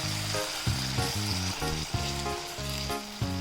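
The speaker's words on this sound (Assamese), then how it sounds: "ইয়াত মই অকমান এতিয়া পানী দি দিম নহলে মছলাখিনি জ্বলি যাব পাৰে" Tomato masala sizzles loudly and steadily in a hot pan after water is poured in, a dense close-up crackle with a low musical tone pulsing underneath.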